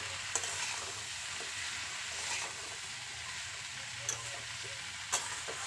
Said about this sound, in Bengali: এবার খুব ভালো করে নাড়াচাড়া করে সবগুলো একসাথে মিশিয়ে নেবো